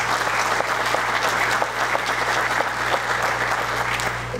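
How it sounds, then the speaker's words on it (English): A room of attendees at a school district leadership retreat gives a warm round of applause, a dense, continuous wash of clapping at a steady level with a low hum underneath. "let's give her a round of applause and a welcome to her."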